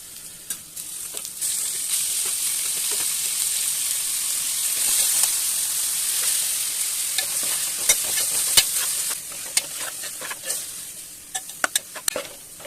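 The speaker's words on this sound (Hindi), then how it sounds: "इस स्टेज पे हम इसमें डालेंगे कीमा" Minced meat (keema) stirred and frying in a pan with browned ginger, garlic and softened onion: a steady, close sizzle throughout, with scraping and clicking stir strokes that grow sharper and more frequent toward the end.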